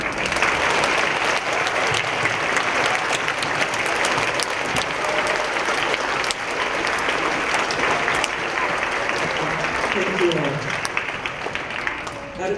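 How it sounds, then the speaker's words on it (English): Long, full applause from the crowd at an elementary school Veterans Day assembly, steady and loud throughout, with faint voices mixed in toward the end. "please take a moment and a round of applause to celebrate these great veterans."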